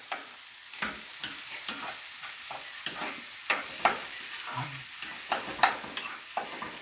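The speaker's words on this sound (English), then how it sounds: "give that another stir" Mung daal with onions frying in a pan gets stirred, with a spoon scraping and tapping at a steady pace of about one or two strokes a second over a faint, low sizzle.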